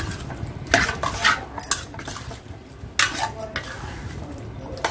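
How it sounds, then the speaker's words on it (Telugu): Masala being stirred into chicken curry in a pan, a metal spoon scraping and clanking against the pot in bursts over a faint sizzle, close by. "మసాలా వేసేసుకుని బాగా కలిపేద్దాం."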